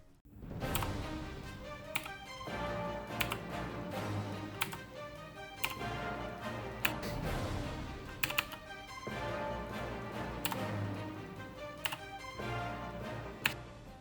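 Rapid typing on a computer keyboard, crisp clicking keystrokes in quick irregular runs, close and clear with no talking.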